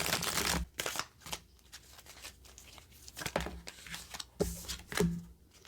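Tarot cards being shuffled and drawn, giving a run of soft riffling and papery crinkles in several bursts separated by brief pauses, close by, with no voice.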